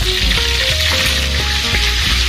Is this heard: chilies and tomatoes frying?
yes